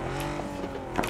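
A car in the video game PUBG driving off: a steady, continuous engine drone at moderate loudness for about a second, with no talking.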